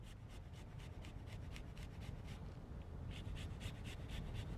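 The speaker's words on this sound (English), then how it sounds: "grate a little of this fresh ginger in here" Fresh ginger rasps against a microplane grater in a steady run of quick, rhythmic strokes. The scraping sound is soft and close, with no voices over it.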